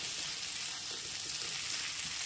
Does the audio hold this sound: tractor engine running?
no